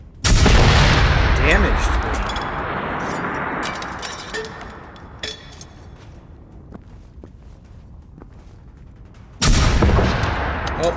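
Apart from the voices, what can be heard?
experimental shotgun firing in video game Generation Zero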